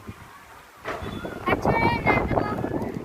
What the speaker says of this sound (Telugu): భలే గాలి, చల్లటి గాలి